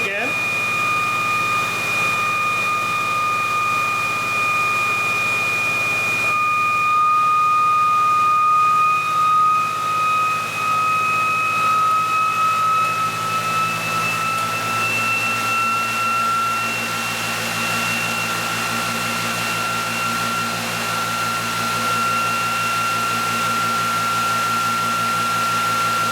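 A green induction motor spins up, its steady whine and tonal hum climbing in pitch over about 26 seconds, loud and continuous with a low electrical drone underneath and no talk.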